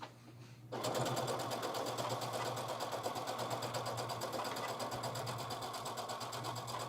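A sewing machine on an Acclaim model runs steadily after a brief quiet start, stitching fabric for gathering and ruffling on an aloha dress, its fast even needle chatter loud and close, with no pauses.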